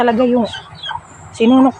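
Two loud, close chicken clucks separated by a short pause, with faint scratchy noises between them.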